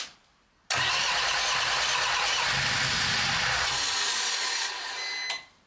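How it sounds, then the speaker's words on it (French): A Peugeot Expert van's engine cranks and starts after a long glow-plug preheat, catching abruptly into a loud, steady run that holds for several seconds before dropping slightly toward idle. "en espérant que ça suffise pour démarrer le moteur"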